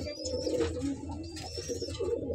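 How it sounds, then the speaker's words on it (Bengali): Pigeons coo softly in their enclosure among nesting birds sitting on eggs, with low repeated calls over faint background hum and an occasional high chirp. "পাখিগুলা গাইস দেখতেই পাচ্ছেন, জাবাজ পাখি আছে"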